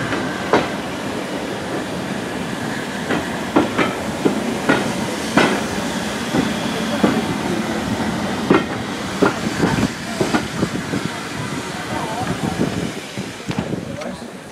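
Heritage train on the Severn Valley Railway rolling toward Kidderminster, heard from on board: a steady rumble with repeated clicking and clanking of wheels over rail joints, loud and continuous, with voices talking underneath.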